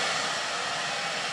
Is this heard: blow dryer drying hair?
yes